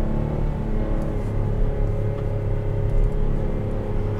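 A 2021 Buick Enclave Avenir engine hums steadily from inside the cabin, a continuous low drone with layered tones as it pulls through second and third gear, with no voices present.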